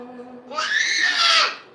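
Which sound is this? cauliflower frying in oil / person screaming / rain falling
person screaming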